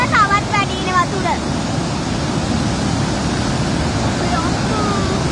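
Fast floodwater falls and rushes in a loud, continuous roar, with a person's voice heard faintly at the start and again later.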